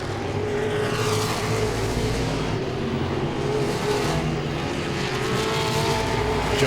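Modified race cars roar around Langley Speedway in a continuous, loud engine drone, several cars jostling between turns one and two with steady throttle and no gaps.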